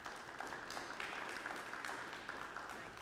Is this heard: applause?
yes